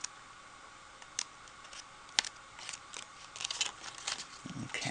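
Scissors snip paper pieces for a patchwork daisy get-well card, making sparse, close, crisp cuts and small clicks that grow busier toward the end.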